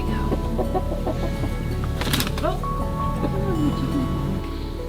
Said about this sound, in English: Oh, the chickens are finally on the roost